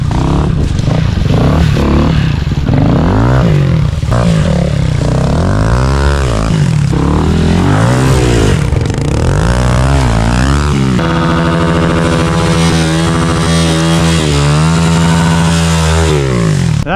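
A Honda dirt bike with a kickstarter rips at full throttle nearby, its loud engine rising and falling through repeated revs and shifts, then settling into a steady high-pitched drone.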